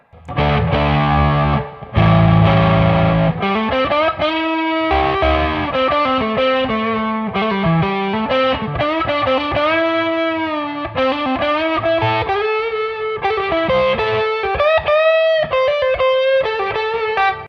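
Electric guitar played through the distortion side of a pedal, blues lines with sustained, gritty overdriven notes and bends, loud and close with no talking.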